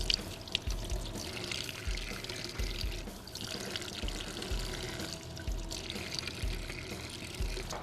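Fresh shrimp being rinsed under a running tap in a Thai kitchen while their dark veins are cleaned out, a steady close splash and pour of water with soft handling noises and no talk.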